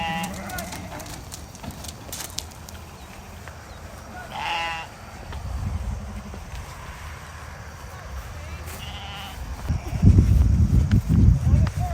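Sheep bleat intermittently at moderate distance in a farm pen, mixed with shuffling and bumping noises, while a person calls to the flock.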